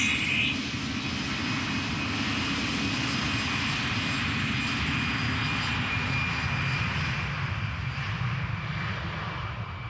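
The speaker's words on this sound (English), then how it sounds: "A319 Lufthansa going to Frankfurt" A Lufthansa Airbus A319 departs Amsterdam Schiphol for Frankfurt, jet engines producing a loud, sustained roar close by with a thin high whine over the top, steady for the whole stretch.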